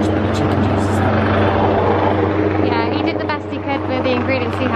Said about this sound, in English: This helicopter's so loud.